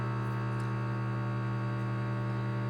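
A steady electrical machine hum drones on in a room, even and continuous with a faint static buzz and no speech over it.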